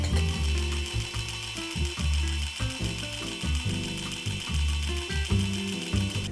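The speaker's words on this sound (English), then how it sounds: "We'll have the printer push out as many pages as it can in 1 minute." An HP LaserJet Pro MFP 4101FDW laser printer runs continuously, printing pages with a rapid mechanical whir and rhythmic clunking pulses from its feed, loud and close throughout with no talking.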